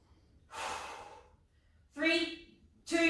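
Heavy exhale during a hollow body hold in a full-body workout, followed by two sharper breathy gasps or voiced sighs, close and fairly loud against a quiet background.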